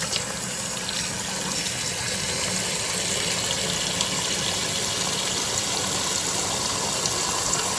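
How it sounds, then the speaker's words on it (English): Tap water pours steadily into a sink with a constant hissing gush, unbroken and fairly close throughout. "run some water around."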